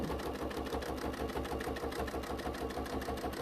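A sewing machine runs continuously while quilting a fabric bag, its steady rhythmic needle thump repeating evenly and close up with no pauses.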